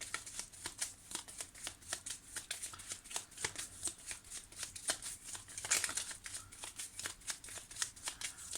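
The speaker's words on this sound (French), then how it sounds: "je vais confirmer ce changement pour voir la carte qui va sortir." Tarot cards are shuffled by hand in a quiet room, a close, continuous run of rapid papery riffles and soft flicks lasting several seconds with no talking.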